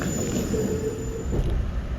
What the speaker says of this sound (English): I was waiting for the Shinkansen, and it just rolled in